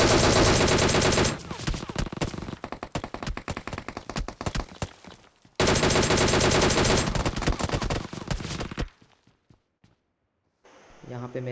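Rapid automatic gunfire from a battle royale video game, with dense bursts, short gaps and scattered single shots, loud and close.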